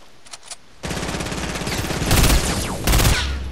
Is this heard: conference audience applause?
no